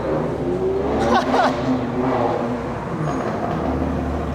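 A Ferrari 360 supercar drives past on a busy Sydney street, its engine rising and falling loudly and close by over steady traffic noise, with people talking nearby.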